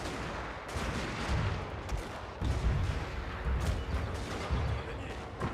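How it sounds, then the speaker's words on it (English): Artillery firing shrapnel in Shogun 2: Fall of the Samurai, a dense battle din of repeated booming shots and crackling bursts over a constant roar, with no talking. "Open up with shrapnel fire."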